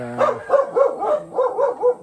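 Several dogs bark in quick, rhythmic bursts, loud and close, with a brief whine at the start and no talking.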